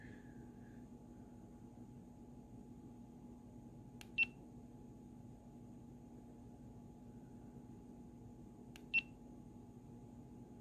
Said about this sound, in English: And you can turn the beep off too.